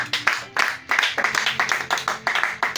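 A church congregation at a Sunday service bursts into quick, dense applause, many hands clapping close together in a lively, steady patter for a few seconds.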